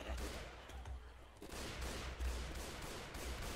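Gunfire in a shooter game, rapid automatic volleys that keep up almost without a pause, heard fairly quietly with steady low rumble beneath and no voices on top.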